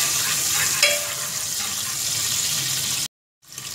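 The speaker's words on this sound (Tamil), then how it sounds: "அடுத்து சின்ன வெங்காயம் கருவேப்பிலை கொத்தமல்லி போட்டு லைட்டாக வதக்கிப்போம்" Small shallots, curry leaves and coriander sautéing in hot oil for a Tamil Pongal kuzhambu, a loud steady sizzle with a brief stir, then a sudden cut to silence before the frying resumes.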